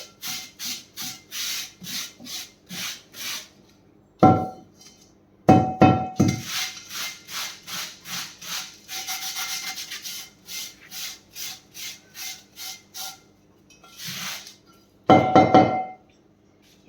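Rhythmic back-and-forth scrubbing on a cast-iron griddle, with steady rasping strokes in bursts, pauses between sets and a few louder clinks and knocks of metal, close and alone without speech.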